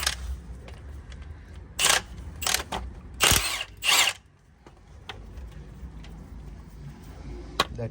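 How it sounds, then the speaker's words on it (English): A bolt is loosened on a Toyota Yaris during clutch replacement: a few short bursts of a power tool or ratchet in close succession, then quieter clicks and handling noise. "after that I need to remove this bolt."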